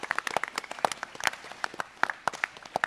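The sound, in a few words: audience applause for a question at a GunCon panel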